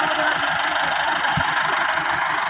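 A steady, loud Al-Ghazi tractor engine idles close by with a faint knocking rumble underneath, continuous and without talk.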